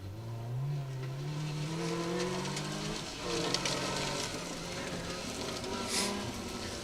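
An MGZR rally car, Car 180, drives a special stage of a 2WD rally, its engine rising and shifting through gears as it passes at moderate distance, with no voices.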